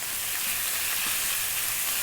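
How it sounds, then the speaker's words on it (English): Lamb stir-frying in a hot pan gives a loud, steady sizzle close by, with no talking. "we're going to be throwing this around, stir frying it around."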